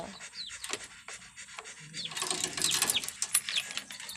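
Quick, breathy panting from a dog nearby, rhythmic and soft at first, then louder and busier toward the end.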